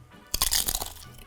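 Homemade masa tortilla chips give one sharp, close crunch followed by a brief burst of crackling bites, fairly quiet and alone.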